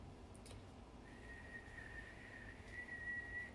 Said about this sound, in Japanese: 口笛はできますか。